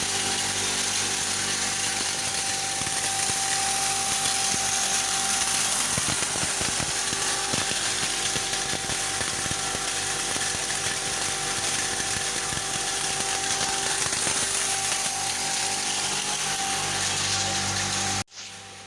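A grain-grinding machine runs continuously, milling grain into pig-feed meal with a loud, steady power-tool whine for nearly twenty seconds before cutting off abruptly.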